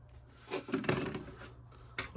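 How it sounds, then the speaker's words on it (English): Plastic parts for a Tamiya 1/48 F-14A Tomcat model kit are cut from the sprue, giving a few close, quiet snips and clicks against a soft room hiss. "as we cut some parts off"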